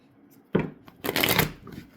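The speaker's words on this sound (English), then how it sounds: "I know this will be the last shuffle" A deck of cards being shuffled up close, with a quick riffle followed by a longer fluttering burst and a final snap, during a tarot-style reading.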